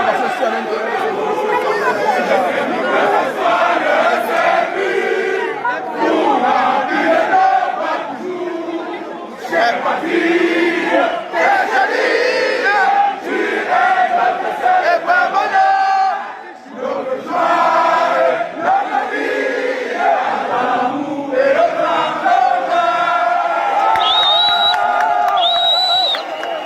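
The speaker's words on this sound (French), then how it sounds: "Regardez la foule mobilisée dehors." A large mobilized crowd gathered outside for Maurice Kamto's address after his release, a dense, loud, unbroken roar of shouting and chatter that fills the whole stretch with barely a dip.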